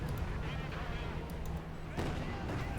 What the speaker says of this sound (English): Grenadier squad wiped again here by Katyusha fire from outside and the Red Army.